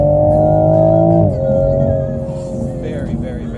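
A 2021 Toyota Supra GR Premium engine pulls hard under acceleration, loud and close, its steady drone shifting pitch sharply as it changes gear about a second in, then climbing again.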